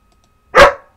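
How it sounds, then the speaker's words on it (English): A single sharp, loud dog bark indoors, close to the microphone, after near silence. "That's my dog barking to tell me he wants outside"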